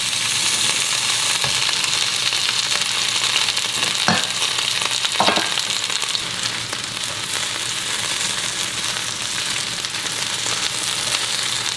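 Okra hits a pan of frying garlic and sizzles steadily and loudly, with a couple of short clacks of utensils against the pan partway through and no talking.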